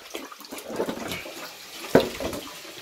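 Bath water scooped and poured during a back scrub, short splashes and trickles close by with one sharper pour near the middle.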